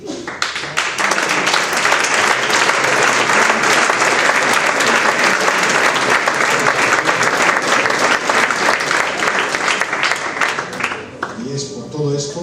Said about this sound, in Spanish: os queremos brindar este fuerte aplauso a vosotros